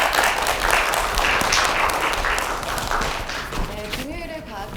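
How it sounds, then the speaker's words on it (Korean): An audience in a lecture hall applauds after a science talk on antibiotics in Daegu, a dense, close clatter of clapping that tapers as a voice starts speaking near the end. "한번 큰 박수 부탁드리겠습니다"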